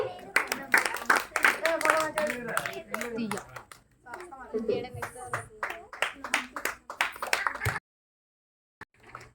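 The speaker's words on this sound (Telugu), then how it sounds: "క్లాప్స్ చేద్దాం వీళ్ళకి." Children and adults at a VBS celebration clap in bursts of sharp, irregular hand claps, mixed with lively voices and chatter, before the room falls nearly silent at the end.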